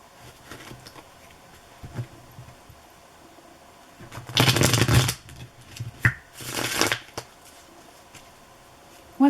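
A tarot card deck is shuffled in two quick, crisp riffling bursts close to the listener, separated by a short pause, with quiet room tone around them.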